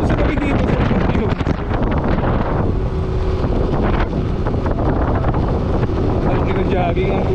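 Loud, continuous wind buffeting against the microphone on a motorcycle ride, a rough roar that dominates throughout, with a voice faintly under it.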